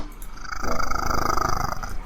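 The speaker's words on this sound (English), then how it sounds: "I think I hear a purring cat" A domestic cat lying asleep on a lap purrs steadily and fairly loudly close to the microphone, a continuous low rumbling vibration with no talking.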